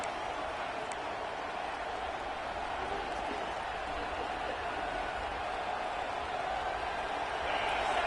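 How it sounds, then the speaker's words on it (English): A stadium crowd cheers in the NCAA 26 college football video game, a steady, dense roar of many voices held at an even level throughout, with no distinct talk over it. "Big third down as the crowd gets behind this defense."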